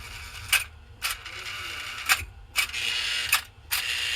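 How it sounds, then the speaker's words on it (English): A 1949 semaphore, SAM #758, has its solenoid energized repeatedly, giving six sharp mechanical clacks at uneven intervals over a low steady hum. "let's just see what happens when we energize a solenoid"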